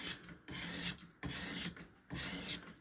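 A knife is drawn across a fine grit Ruixin Pro sharpening stone in three even rasping passes, each about half a second long with short pauses between, close up and alone.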